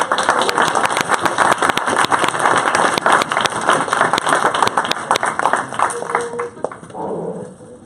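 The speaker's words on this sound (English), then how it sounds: "Let's give them a round of applause again" A room full of people gives a round of applause at a health technology demo showcase, sustained brisk clapping for several seconds before it thins out and someone starts talking.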